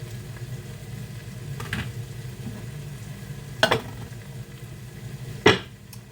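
Butter sizzles softly in a pot of vegetarian chili, a steady low crackle broken by a few sharp clanks from a utensil against the pot.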